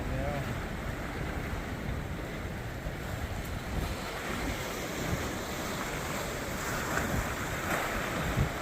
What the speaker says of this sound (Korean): 우리는 저 파도 소리를 영상에 담아야 돼